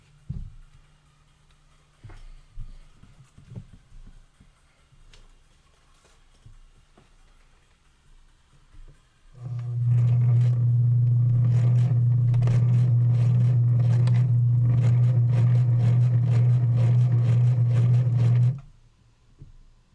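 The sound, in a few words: sewing machine running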